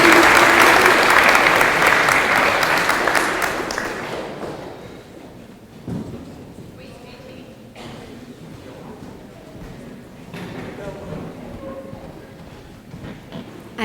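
Applause at a high school music awards ceremony as a presenter walks to the stage, loud dense clapping that fades out over about four seconds, leaving quieter room noise with a few thuds and shuffling.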